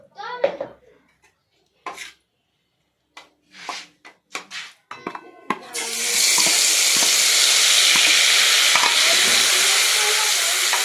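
Oil heating in a kadai for a Bengali tel koi fish dish breaks into a loud, steady sizzle partway through, after a stretch of scattered clatter and scraping in the kitchen.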